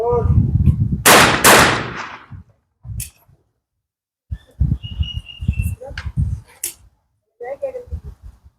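Shotgun blasts crack out at a live trap shooting range, with a couple of loud, sharp reports early on and further bangs mixed with chirping birds and people talking nearby.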